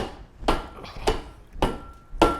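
A rear disc brake rotor on a Firebird Trans Am is whacked four times to loosen it, each a sharp, ringing metallic hit about half a second apart, close and moderately loud.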